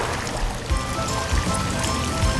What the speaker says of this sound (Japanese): なんか滝になってる